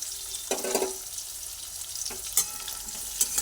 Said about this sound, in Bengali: মিশিয়ে নিলাম নোনা হলুদটাকে